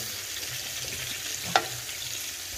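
Chopped onion and tomato fry in a hot pan for a guajillo chile red-sauce chicken, giving a steady, even sizzle throughout with one brief louder clink midway and no talking.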